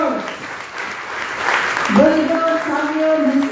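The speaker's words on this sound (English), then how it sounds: "Give a round of applause." Audience clapping at a school talent search examination felicitation ceremony in Goa, steady applause filling the hall with a voice speaking over it.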